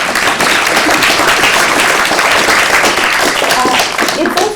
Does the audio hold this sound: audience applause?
yes